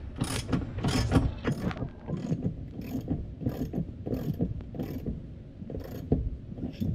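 A ratchet tightens a bolt inside a KitchenAid dishwasher during wash motor and heating element replacement, giving repeated quick clicking strokes in an uneven rhythm, close and moderately loud, with no talking.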